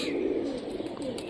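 A Mushki pigeon with green plumage and feathered feet gives a soft, low, continuous coo, close by and fairly faint, with no other sound competing.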